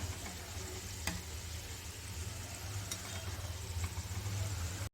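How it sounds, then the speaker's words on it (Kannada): Mini samosas fry in oil over a low flame, giving off a steady, even hiss and bubbling sizzle with a faint low hum underneath and no talking. "ಈಗ ಇದನ್ನು ಎರಡು ಕಡೆಯೂ ಚೆನ್ನಾಗಿ ಗೋಲ್ಡನ್ ಬ್ರೌನ್ ಬರೋವರೆಗೂ ನಾವು ಫ್ರೈ ಮಾಡಿ ತಗೋಬೇಕಾಗತ್ತೆ."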